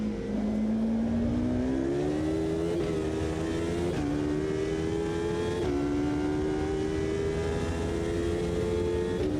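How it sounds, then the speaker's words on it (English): A 2005 GT race car engine in the racing game Automobilista 2 revs steadily upward through the gears, a loud close droning whine that climbs in pitch, drops briefly at each shift, then climbs again. "Oh yeah, I can let it rev a lot higher."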